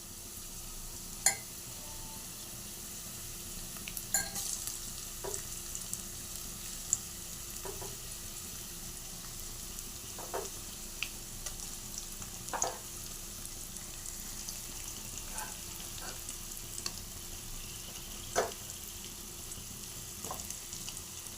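Fish pieces frying with onions in a pan for a fish curry make a faint, even sizzle over a long stretch, punctuated by occasional light clicks and taps of handling.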